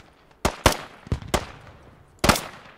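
Gunfire in the military shooter game Squad: five or six sharp, loud reports in an uneven burst, two close together, then scattered single shots, with no talk over them.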